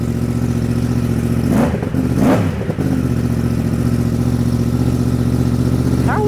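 Yamaha MT-10 motorcycle fitted with a Yoshimura exhaust, idling with a deep steady burble and then revved sharply twice in quick succession before settling back to a rumbling idle; loud and close, with no talking.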